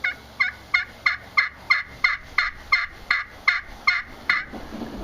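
Turkey yelps scratched on a pot-and-peg friction call with a crystal surface, a steady series of about twelve close, loud, evenly spaced notes breaking between high and low pitch, with no talking.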